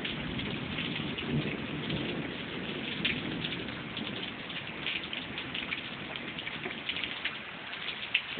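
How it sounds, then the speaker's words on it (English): Heavy rain pours steadily onto a backyard patio in a windy thunderstorm, a dense, even hiss of drops striking the ground close by, with low thunder rumbling underneath throughout. "It's raining pretty good."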